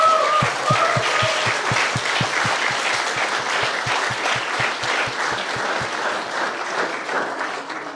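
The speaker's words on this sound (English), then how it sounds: "Clap it up for yourself, please, everybody." Hackathon attendees in Hamburg applaud themselves: loud, dense crowd clapping held for several seconds over a steady thumping beat, with a short tone at the start and no speech.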